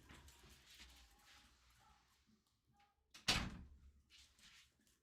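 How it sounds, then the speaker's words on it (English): A door is pulled shut in a room, a single sharp closing thump that stands out near and loud against faint background noise, with a little low rumble trailing after it. "Had to close the door."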